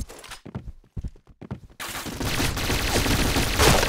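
Rapid gunfire bursts from the PointBlank shooter game with an MP9, short separate shots at first, then a dense continuous volley of automatic fire with headshot hits, loud and close.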